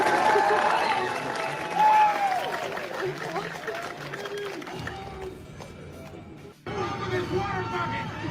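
A cinema audience at the Minecraft Movie claps and cheers, a dense wash of applause and crowd noise that fades and then swells again, with voices mixed in.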